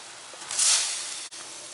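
Egg gravy bubbling in a pan, a steady close hiss of simmering and sizzling that swells briefly, with one short break in the sound near the end.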